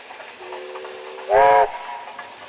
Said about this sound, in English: Later in the afternoon, JA's 1250 and 1275 double-headed the final train for the day.